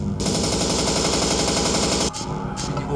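Watch Dogs video game gunfire: a loud, sustained automatic burst of rapid shots lasting about two seconds, a brief pause, then more firing, with little speech.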